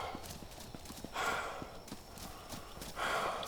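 Hooves of a running deer in the medieval survival game Medieval Dynasty, a quick clip-clop patter of galloping steps, fairly close and steady over brief outdoor rustle.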